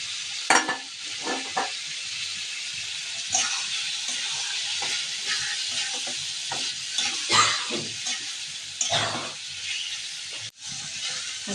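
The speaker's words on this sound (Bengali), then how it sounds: "আর মশলাটা কষানো হয়েছে" Spice paste for meat sizzles steadily as it is fried and stirred in a pot, with a spoon scraping and clattering against the pan in irregular bursts, heard close with no talking.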